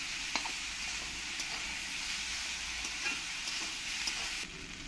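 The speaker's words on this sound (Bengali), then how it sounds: "কলার খোসাগুলো দিয়ে একসঙ্গে একটু ভালো করে আমি ভেজে নেব।" Banana peels fry in hot oil in a pan, giving a steady close sizzle throughout with faint scraping stirs and small pops, no voices.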